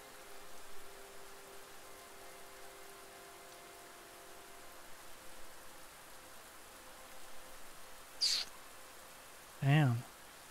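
Soft, continuous rainfall in Bramble: The Mountain King, a low hiss across the whole scene, interrupted near the end by a couple of brief sharper chirps or splashes.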